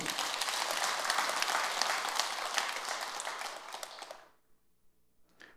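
An audience claps at a Buddhist dharma talk at Jogyesa temple, with loud, dense applause for about four seconds that then fades to a few scattered claps and quiet.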